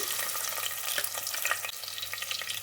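Sliced onions hit hot oil in a pan, a steady, dense sizzle with a soft hiss and faint stirring crackles, close and continuous for the whole stretch, with no voices.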